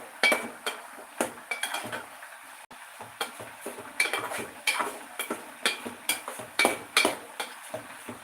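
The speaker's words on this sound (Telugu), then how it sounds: "ఇవి మధ్య మధ్యలో కలుపుకుంటూ ఉండాలి లేదంటే అడుగంటేస్తాయి" A spoon repeatedly scrapes and clinks against a pan while stirring a tomato and green chili chutney, with steady rhythmic strokes over a soft cooking hiss, close and alone without talk.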